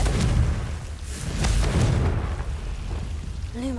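Confringo blasting spell from Hogwarts Legacy, heard as several deep booming blasts with crackling fiery bursts over a low rumbling game background, ending in a brief rising magical tone.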